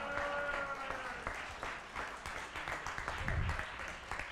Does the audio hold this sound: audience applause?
yes